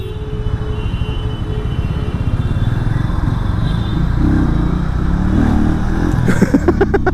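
Hero Mavrick 440 single-cylinder motorcycle running on the road, a loud steady low engine throb with wind rush, rising in pitch briefly near the end as it revs.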